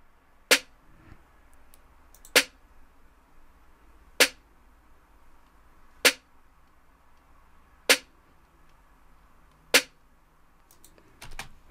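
Layered snare hits from a snare 11 and a YK mud snare in a trap beat, six sharp, crisp cracks evenly spaced about two seconds apart over a near-silent background.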